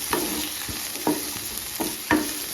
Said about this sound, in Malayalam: ഇനി ഇതിലേക്ക് തക്കാളി അരിഞ്ഞതും പച്ചമുളകും കൂടെ ചേർക്കുന്നുണ്ട്.